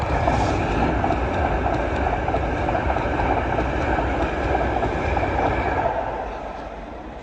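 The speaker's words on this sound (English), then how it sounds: "Here comes LNER Azuma to Edinburgh" An LNER Azuma train bound for Edinburgh passes on a North London line, a loud, steady rushing roar with faint clatter that fades slightly toward the end.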